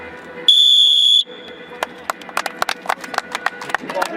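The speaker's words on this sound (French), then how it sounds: "Sam, Un peu de sifflet" A single whistle blast, sharp and loud for under a second, followed by a quieter tail and then rapid rhythmic footfalls or ball taps on a playing surface.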